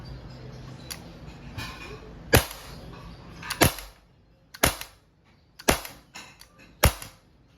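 An Umarex Glock 17 Gen 3 dual-ammo airgun fires about six sharp, close cracking shots at irregular intervals, with faint handling clicks between them.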